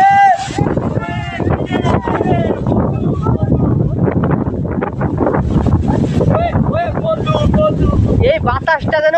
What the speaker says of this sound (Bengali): এই বাতাসটা যেন ভাই মাথা নষ্ট করে দিচ্ছে।